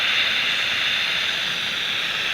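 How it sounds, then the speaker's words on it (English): Spirit box radio device scanning stations during a ghost hunt at Starved Rock, a steady hiss of static with no clear voices, constant and fairly loud. "So usually the spirit box just sounds like this."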